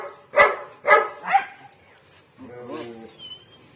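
A dog up for free adoption in Cuttack gives a few sharp, whiny yelps close by, three distinct cries in quick succession, followed by softer murmuring voices and a brief thin tone.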